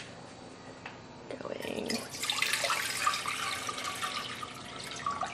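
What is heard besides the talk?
water pouring into a pan for cooking basmati rice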